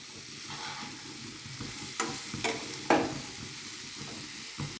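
Shredded cabbage mixture is stirred in a hot pan over a soft continuous sizzle, with a few sharper scraping strokes of a spoon, close by and with no talking.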